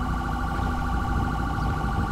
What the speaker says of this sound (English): Sorry, I left the siren on.